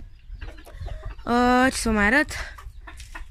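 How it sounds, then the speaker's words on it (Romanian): Hen in a backyard coop near its feed, giving a loud, harmonic clucking call in two close bursts, with quieter speech and other birds around it. "Acolo e găina, este acolo cu mâncarea."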